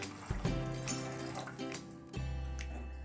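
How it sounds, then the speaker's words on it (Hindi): Half a glass of water poured into a pot of chicken soup, heard as a few splashing, trickling pours with brief pauses between them, close and fairly clear, with no talking. "मैं इसमें आधा गिलास पानी और शामिल करूंगा।"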